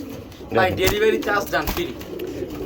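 Pigeons cooing in a loft where birds are kept for sale, soft repeated coos sounding close, mixed with someone talking over them.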